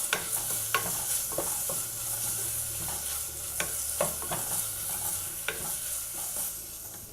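Ginger and garlic sizzle steadily in a hot pan while a utensil scrapes and clicks now and then as they are stirred.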